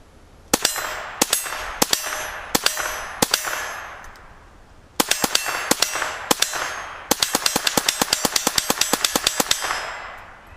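A .22 long rifle copy of the STG-44 firing at a half-inch AR500 steel plate on an outdoor range: sharp shots each with a ringing clang, first spaced singly, then a fast rapid string.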